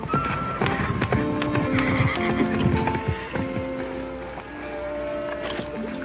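A horse in a western TV drama neighs loudly while its hooves clip-clop steadily close by, over a sustained tonal background bed.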